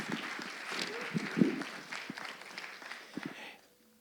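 Audience at a school eloquence tournament final clapping for a debate speaker, a moderate round of applause with some louder individual claps that fades out toward the end.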